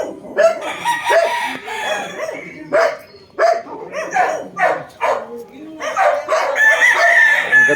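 Boston Roundhead gamefowl roosters crowing repeatedly around a farm, loud and close, overlapping with barking dogs and clucking hens, while someone talks through much of it.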